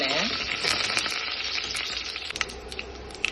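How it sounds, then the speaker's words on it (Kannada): Garlic and curry leaves, added after mustard seeds and cumin, fry in hot oil for drumstick saaru, giving a steady, moderate sizzle with light crackles and a few stirring clinks. "ಬೆಳ್ಳುಳ್ಳಿ, ಕರಿಬೇವು ಹಾಕೋಣ. ಸ್ವಲ್ಪ ಬೆಳ್ಳುಳ್ಳಿ ಬೆಂದ ತಕ್ಷಣ"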